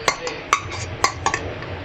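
A utensil clinks sharply against a pan about five times in a steady rhythm while beaten egg is stirred into sautéed bitter gourd (ampalaya). The clinks are close and clear over a low background, with no talking.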